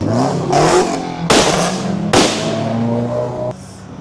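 A Honda Civic accelerates past, a loud nearby engine rising in pitch through several gear changes, each marked by a sharp surge, before fading quickly away.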